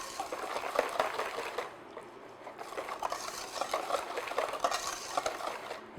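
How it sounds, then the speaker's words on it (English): A mixture for strawberry cheesecake ice cream whisked steadily in a bowl, a quick, continuous rattling of the whisk that eases briefly in the middle before picking up again. "I'm just going to add a little and just whisk it in."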